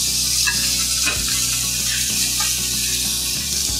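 Marinated shrimp topped with dry seasoning sizzle loudly and steadily in a hot pan, a dense continuous hiss with faint clatter of stirring underneath.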